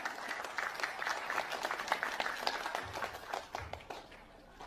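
An audience claps together in a dense patter of many hands. The applause holds fairly steady, then thins and fades toward the end.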